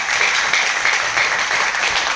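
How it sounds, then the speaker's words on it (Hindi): Dense applause from an audience fills the space, a steady wash of many hands clapping without pause throughout, loud and close. "एक बार ताली से बजा सकते हैं"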